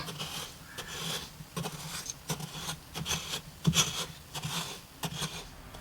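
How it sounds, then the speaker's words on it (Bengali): Hot salt pushed aside in a pan with a utensil, producing close, gritty scraping and rubbing strokes in an uneven rhythm, fairly soft, with no talking. "নুনটা গরম হয়ে গেছে, একটু সাইড করে নিচ্ছি।"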